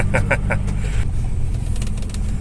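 An Isuzu 3.0L DDI diesel engine with a turbo boost controller and a stainless exhaust idles with a loud, steady low rumble close by. A few faint chirps sound early on.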